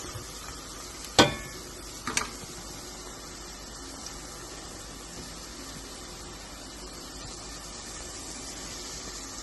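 Tomatoes sauté in a pan for a squid dish, a soft steady sizzle with a sharp clatter of a utensil against the pan early on and a second smaller knock, then quiet frying continuing under a faint hiss.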